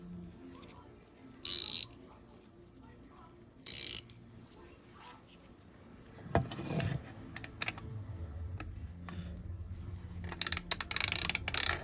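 A ratcheting wrench clicks on a 19 mm nut during a Stihl 044 Magnum chainsaw rebuild, with quiet, intermittent mechanical ticks and a few short, louder rattling bursts in a quiet workshop.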